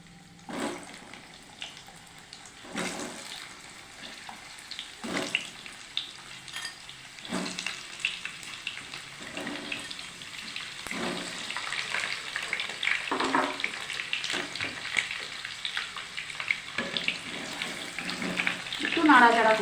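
Potatoes fry in hot oil in a kadai, a steady close sizzle that builds louder over time, broken by periodic scraping strokes from stirring.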